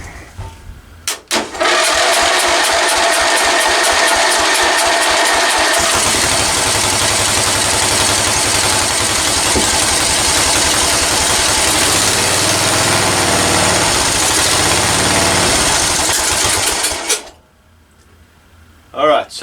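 A free lawn tractor engine cranks and catches, then runs at a loud, steady idle for about fifteen seconds before shutting off.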